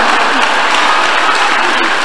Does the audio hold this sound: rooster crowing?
no